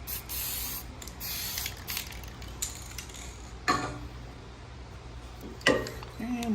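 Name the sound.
spraying lubricant on a lathe bed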